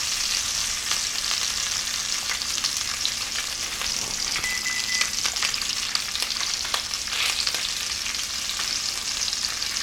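Sausage fries in a pan with a dense, continuous sizzle and crackle, close and even throughout, with occasional faint stirring sounds from a wooden spoon and no talking.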